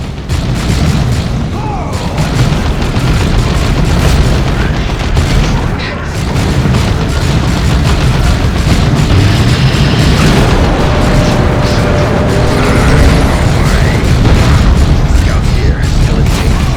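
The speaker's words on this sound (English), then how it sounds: "Cannon firing! Clear the target area!" Cannon fire and explosions in the Warhammer 40K Dawn of War 2 video game form a dense, loud barrage of booms and bursts, with battle noise layered throughout and game voices mixed in.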